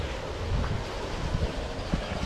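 Outdoor wind rushes steadily across the microphone in a broad, constant roar, with low gusty rumbles and faint rustling underneath, loud and unbroken with no talking.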